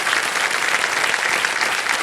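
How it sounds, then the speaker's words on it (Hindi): Loud, sustained applause from a game show studio audience on KBC, a thick unbroken wash of clapping with no voices. "तालियां बजती रहें इनके लिए"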